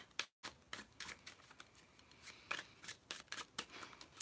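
Playing cards are flicked and riffled through by hand, a series of quiet, sharp papery snaps and rustles in irregular bursts, close and faint, without speech.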